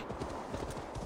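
Hooves clip-clop in a quick steady rhythm as a horse gallops in Assassin's Creed Valhalla, a close and fairly loud stream of hoofbeats filling the short moment.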